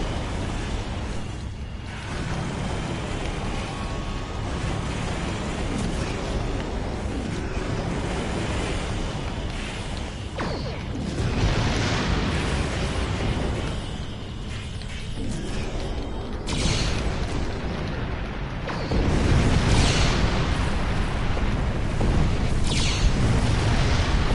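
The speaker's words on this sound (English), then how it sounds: "Firing the bloody weapons." Starship weapons fire in Star Trek Online, heard as loud, continuous rumbling booms and bursts of blasts with creaking mechanical noise, building heavier toward the end, with no voices over it.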